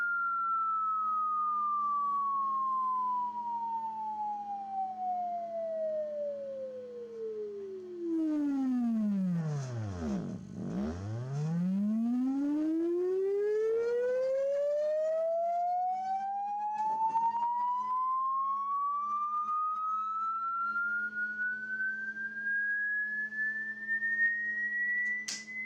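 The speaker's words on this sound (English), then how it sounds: "1000 steps at 4 hertz is 4 kilohertz sweep, so that should have gone up to 4 kilohertz, and now it will come down to 0 hertz." An HP 3330B automatic synthesizer sweeps a pure tone steadily downward to a very low rumble, then glides smoothly back up again. The tone is loud and continuous, with faint harmonics around it and no speech.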